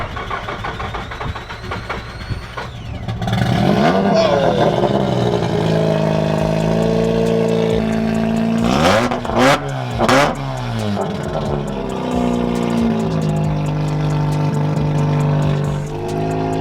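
A modified Mazda RX-8 rotary engine with its rear exhaust box removed revs loudly and repeatedly, rising and falling in sharp bursts over a rough, buzzy idle, close and powerful.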